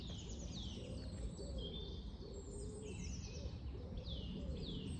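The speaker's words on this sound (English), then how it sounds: "It's just alive with birds." Many birds calling in a woodland with old rook and crow nests and nuthatches nearby, overlapping chirps and whistles and low cooing against a steady background hiss, moderately distant and continuous, with no talking.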